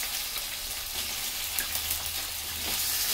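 Onions fry in a pan, a dense close-up crackling sizzle that stays steady throughout.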